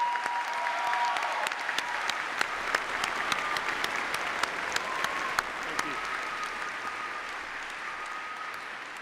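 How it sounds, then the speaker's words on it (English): Sustained applause from a large crowd at a graduation ceremony, steady and dense clapping throughout with a few sharper claps standing out. "Please join me in applauding our Olin faculty."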